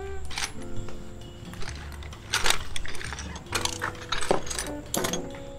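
A wrench tightens the mirror mount on a motorcycle, giving a close run of sharp metallic clicks and ratcheting taps in irregular bursts.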